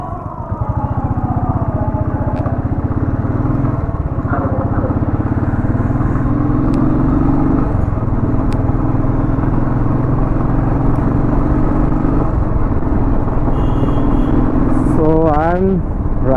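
A motorcycle ridden at modest speed through city traffic, its engine droning steadily up close with shifting pitch and loud wind rumble, rising in a brief rev near the end.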